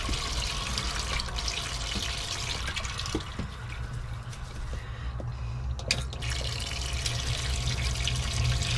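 Warm water mixed with washing-up liquid flows steadily through a clogged Thetford toilet pump in a motorhome, making a continuous close splashing rush with scattered drips and gurgles throughout.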